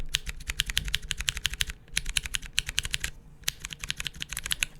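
Scratchy mechanical keyboard switches typed in quick bursts of close clicking keystrokes, with two brief pauses between runs.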